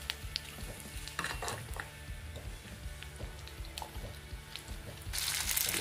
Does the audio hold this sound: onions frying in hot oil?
yes